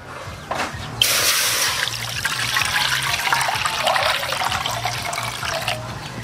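Rice washing water pours into a pot for fish broth, a steady close splashing gush running continuously for several seconds over a low background hum, with no talk.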